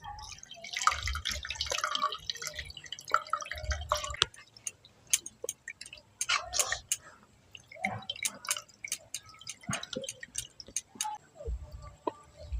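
Water drips from cloth-wrapped chhana in irregular, sharp droplets, some close and crisp, others softer, with a faint voice and handling noise early on.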